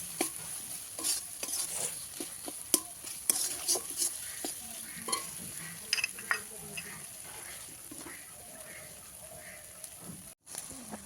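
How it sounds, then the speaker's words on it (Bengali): Quiet sizzling of spices and ripe tomato in a pan with frequent scraping and clacking of a spatula as they are stirred, irregular and close. "একটু ভালো করে মশলাটা কষিয়ে নেবো"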